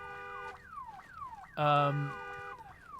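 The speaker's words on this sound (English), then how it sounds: "there went the car alarm" A car alarm in the video game Days Gone wails with repeating rising and falling sweeps, broken midway by a loud, harsh honking blast before the sweeps resume.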